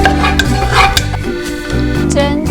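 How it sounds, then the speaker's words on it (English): Cumin seeds being stir-fried over low heat for panang curry paste, with busy scraping and stirring of a utensil in a pan and soft sizzling, steady and close with no speech. "Cumin, stir fry until it smells good too."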